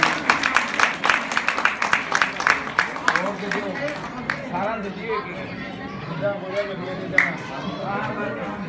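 An audience at a religious discourse gathering claps loudly to welcome a gaushala committee, rapid dense applause for a few seconds that fades into crowd chatter and someone speaking over it.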